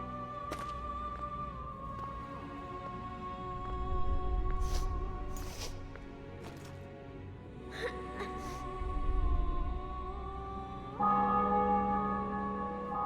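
Church bells ring in the video game The Witcher 2: Assassins of Kings over a sustained tonal drone, with several sharp strikes through the middle and a fuller chime near the end.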